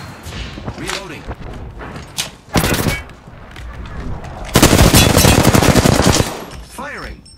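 Automatic weapon fire in the battle royale game Apex Legends, loud bursts of rapid shots and a long sustained volley, mixed with short game voice callouts and thumps.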